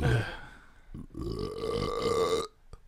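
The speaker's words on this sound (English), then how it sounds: "I burped." A long, loud, croaking burp close to the microphone, followed by a brief quieter sound.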